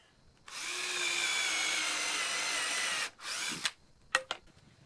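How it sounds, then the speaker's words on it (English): A power drill whirs loudly for a couple of seconds, its pitch holding steady, then stops and gives a few shorter bursts as a screw is driven home into wood. "Let's try it with the drill this time."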